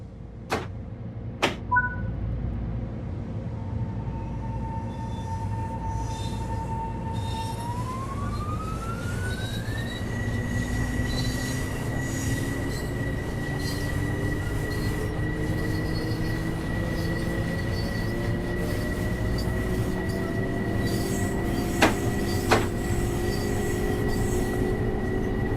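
An LIRR commuter train in the Train Sim World 4 game pulls away from a stop, with a few short tones at the start, then a rising electric motor whine and rumbling wheels that build steadily and continue without speech.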